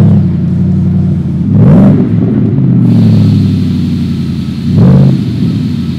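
A car engine fires up and idles with a low rumble, then gets two short throttle blips about three seconds apart, each rising and falling quickly, close by with no talking.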